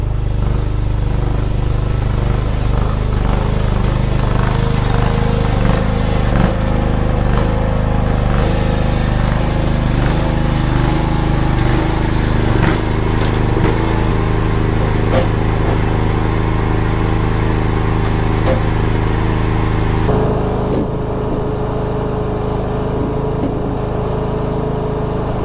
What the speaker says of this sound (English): I'm gonna get the lawnmower out here and I'm gonna collect that all up